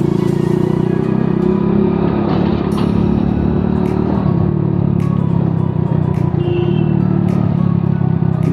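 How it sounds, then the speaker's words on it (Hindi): A motorcycle's exhaust rumbles close and loud in a low, steady drone, idling or cruising without sharp revs, as it runs continuously throughout. "फिर जो गाड़ी की आवाज़ आती है ना एग्जॉस्ट की"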